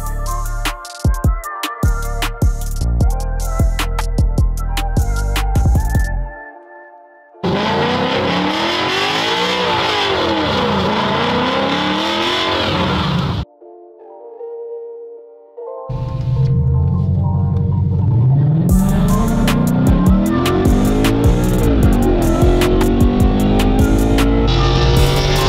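A tuned Ford Mustang with a 5-liter V8, roughly 450 horsepower, modified exhaust and intake, revs hard in loud bursts, rising and falling with short pauses between, then accelerating with climbing engine pitch.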